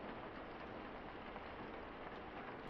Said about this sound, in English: I'm just glad we were able to get back before the rain got too bad.